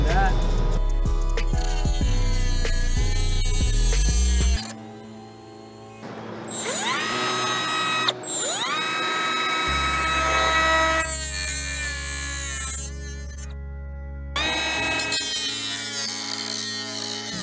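A power tool whines at high, shifting pitch as it shaves plastic for cooler clearance during a 2007-to-2020 Toyota Tundra front-end conversion, with loud bursts that stop and restart and brief pauses between cuts.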